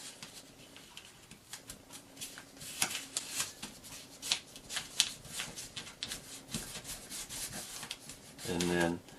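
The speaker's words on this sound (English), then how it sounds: "I'm going to fold these two flaps up, fold the left side to the center" Paper being folded by hand into an origami turtle: soft, close crinkling, rubbing and creasing that goes on steadily throughout, with a faint voice-like sound near the end.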